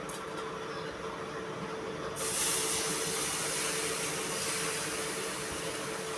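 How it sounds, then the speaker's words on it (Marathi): Warm milk poured into roasted semolina for gulab jamun sets off a sudden loud hiss and sizzle partway through, rising from a quieter background and holding steady to the end. "आता ह्यामध्ये हे कोमट केलेलं दूध आपण थोडं थोडं ओतून घ्यायचं आहे"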